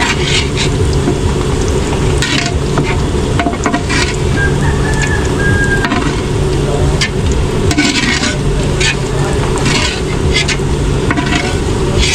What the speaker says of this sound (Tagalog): Tapos magigisa na po tayo